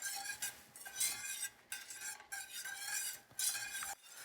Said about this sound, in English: And now we're constantly stirring. You slowly melt the butter into the liquid.